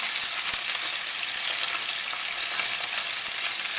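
Meat for Tibetan shaptse stir-frying in a hot pan: a dense, loud, continuous close sizzle with faint crackles and no voices.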